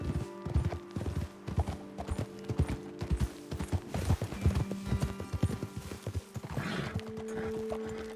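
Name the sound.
horses walking, hooves clip-clopping, Red Dead Redemption 2 video game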